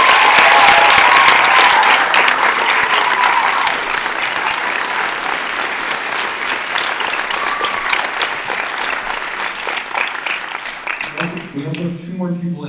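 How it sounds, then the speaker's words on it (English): A large audience at a high school winter showcase gives loud, sustained applause with scattered cheers, the clapping thinning slightly before a voice speaks at the very end. "Would you please give all of them a huge round of applause?"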